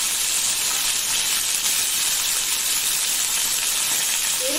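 A crab goes into a hot pan for a Sundarbans-style crab curry and fries with a steady, loud, continuous sizzle and hiss, uninterrupted throughout with no talking.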